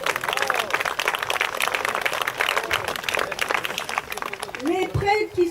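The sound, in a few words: audience applause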